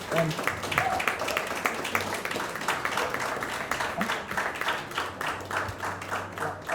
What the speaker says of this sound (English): I'd appreciate if you guys could give them another round of applause.